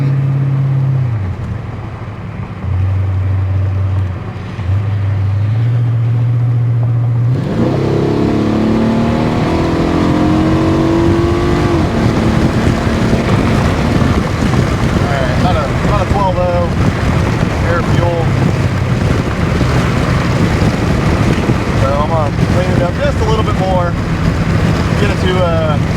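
A 1995 Chevrolet Impala SS with a 383 engine rumbles at low speed, then roars loudly and climbs in pitch as it accelerates through a tuning pull, with heavy wind buffeting the microphone.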